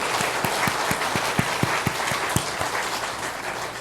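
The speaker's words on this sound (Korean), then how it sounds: "박수로 하나님 영광 드리겠습니다." A church congregation claps together in a steady, rhythmic beat over a dense wash of applause, loud and close throughout.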